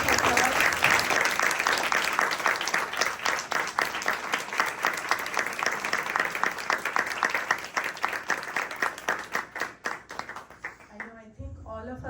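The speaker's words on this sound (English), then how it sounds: "One more round of applause." Sustained audience applause after a live classical music performance at a weekend baithak, dense clapping filling the room before thinning into scattered claps and fading out, with some voices underneath.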